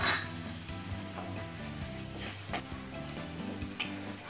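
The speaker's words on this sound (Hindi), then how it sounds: "टमाटर भी अच्छे से फ्राई हो चुका है" Tomato puree frying in a pan for a halwai-style aloo sabzi, a steady low sizzle with soft spoon stirs and occasional light clinks against the pan, close and alone without talk.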